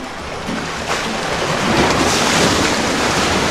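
Ocean waves surge and break at a seaside fishing spot during squid egging in Wakayama as a typhoon approaches, a loud continuous wash of surf with wind buffeting the microphone and rising toward the end.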